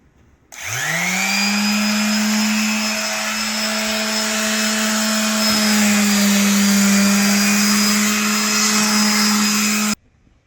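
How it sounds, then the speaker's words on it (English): An electric sander on wood whirs up and runs at a steady, loud, continuous pitch for several seconds, then cuts off abruptly. "now I'm going to turn it on, and I'm going to start sanding"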